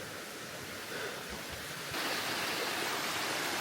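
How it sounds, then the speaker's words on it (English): Rushing water of a waterfall in an ancient forest, a broad continuous roar that grows louder and nearer partway through. "But I did decide to go see the waterfall,"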